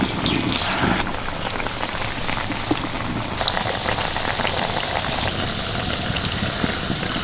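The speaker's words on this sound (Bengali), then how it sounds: "দেখুন একটু তেলটা বেশি করে দিয়েছিলাম বলে একসাথে কিন্তু অনেকগুলো ভাজে যাবে" Puffed rice snacks deep fry in plenty of refined oil, a dense, loud, continuous bubbling crackle like heavy rain that holds steady throughout.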